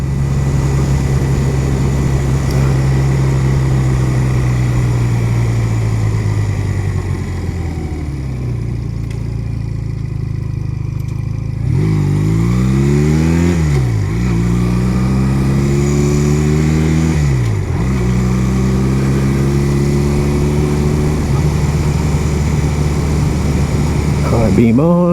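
A Honda Rebel 250 motorcycle engine runs while being ridden, a steady drone that rises and falls through several gear changes and throttle swells, with a voice talking over it.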